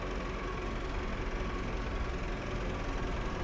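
A steady, loud tractor engine in a farming video game idles throughout with a constant low rumble and broadband mechanical noise, no voices.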